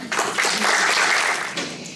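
Sustained applause from a launch event audience greets Ana Quintana, a dense, steady wash of many hands clapping that swells and then gradually fades.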